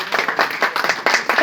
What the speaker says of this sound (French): Ce sont des concurrents qui vous applaudissent.